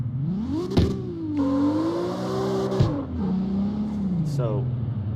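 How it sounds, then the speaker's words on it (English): A car engine in the CarX Street game revs and surges on stock fuel after its nitrous is triggered, with a loud rising and falling engine tone, a sharp burst near the start and another mid-way, while a person talks over it. "I did not mean to hit the nitrous button"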